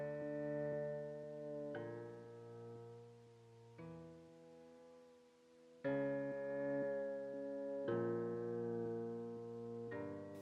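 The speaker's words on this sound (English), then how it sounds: "let's go ahead and change that to a harp" Synthesized harp tones with auto pan in a spooky music piece ring out as sustained chords, changing about every two seconds, soft and clean, with no voices.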